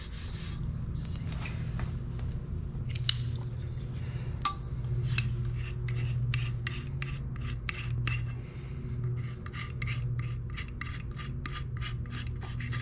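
A rag soaked in mineral spirits scrubs old glue and tape off a golf club shaft, giving steady close rasping strokes that turn into a fast regular back-and-forth rhythm over a low background hum.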